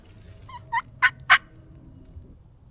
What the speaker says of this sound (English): That last gobble was closer.